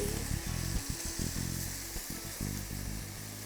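Food fries hard in a pan with soy sauce just added, a dense, steady sizzle heard close up for the whole stretch, with faint stirring clatter underneath.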